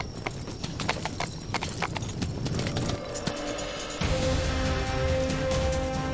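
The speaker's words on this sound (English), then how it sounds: "I get a horse that doesn't breathe, bro." Steady, rhythmic clip-clop of horse hooves trotting nearby in the video game Tiger Knight, with a faint background tone and a brief whinny-like sound.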